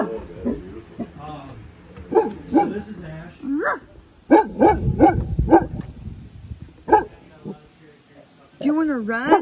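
A small dog gives several short barks in bursts across the clip, close and fairly loud, mixed with a person talking and playful vocal sounds.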